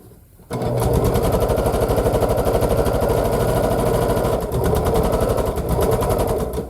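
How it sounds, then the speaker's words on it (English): A sewing machine runs steadily and close up while stitching scrappy quilt pieces together, starting abruptly after a short quiet lead-in and continuing as one even, rapid mechanical hum. "And I'll just take and stitch these together."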